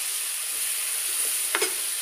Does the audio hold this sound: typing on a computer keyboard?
no